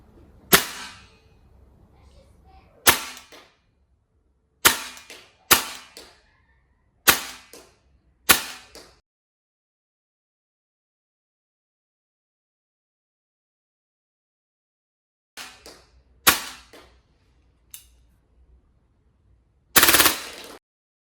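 A Tokyo Marui MTR airsoft rifle fires a sharp, snappy shot roughly every second or two, close and alone, with a long silent gap midway before a few more shots follow.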